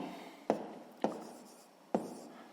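A pen or pencil writing out a sixth-grade maths exercise, three distinct scratchy strokes or taps spaced across a quiet background, close and faint, with no talking.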